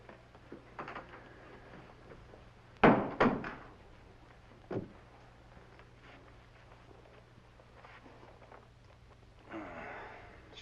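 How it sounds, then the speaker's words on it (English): A door in a Western setting is pushed shut with a solid wooden thunk and a second knock just after, followed by a softer bump and quiet room tone. "Close that door behind you."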